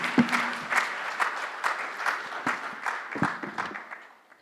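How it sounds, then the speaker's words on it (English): Audience at a manufacturing summit applauding panelists, a lively round of many overlapping claps with sharp individual hits, tapering off toward the end. "can we have a huge round of applause for the panelists"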